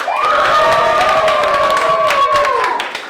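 A studio audience at a tournament cheers loudly, with a sustained high shout riding over the roar, scattered claps and whoops underneath, fading slightly near the end.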